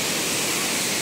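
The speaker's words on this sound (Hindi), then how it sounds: "यहाँ से पूरा देख सकते हैं आप पूरा वाटरफॉल" Waterfall at Muktagiri gives off a loud, steady broadband rush of falling water, continuous and unbroken for the whole brief moment with no voices.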